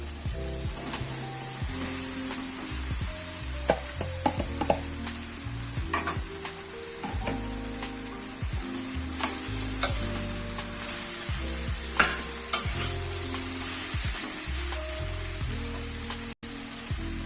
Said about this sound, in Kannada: ಅವಲಕ್ಕಿ ಹಾಕ್ಕೊಂತೀನಿ.